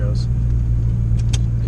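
A Ford Mustang engine idles with the air conditioning running, a steady low rumble with a few faint metallic ticks over it, close and continuous.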